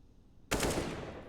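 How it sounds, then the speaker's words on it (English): AK rifle fire through smoke in CS:GO on the Dust2 map during a pro Gambit vs. Natus Vincere match: after half a second of near-quiet, a sudden loud, close burst of gunfire erupts and rings out with a long, sustained tail. "now the jig's up with the AK, so a couple of shots through the smoke there"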